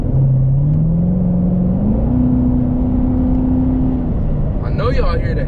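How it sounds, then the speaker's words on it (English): A 2019 Chevrolet Corvette C8 Stingray's engine hums loud and close from inside the car, its pitch climbing in two steps and then holding steady. A brief burst of voice comes near the end. "I know y'all hear that engine. That engine ready to go."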